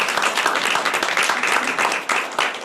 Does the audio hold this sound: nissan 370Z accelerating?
no